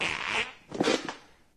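A comedic fart sound from an Instagram reel: a short raspy burst, then a second longer sputtering blast, fairly quiet, ending in silence, with no speech.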